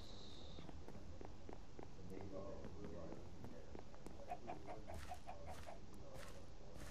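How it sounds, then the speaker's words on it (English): Blocky video-game chickens in Wynncraft cluck amid a busy mix of game ambience, footsteps and clip-clop sounds, with the player talking over it throughout. "Oh yes, chickens. I think this is where I get eggs."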